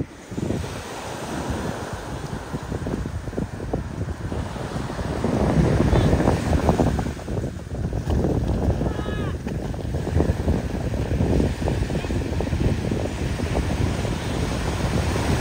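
Sea waves wash steadily onto a beach under gusty wind buffeting the microphone, a continuous broadband roar that swells slightly midway and holds without pause.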